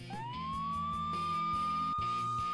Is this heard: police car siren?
yes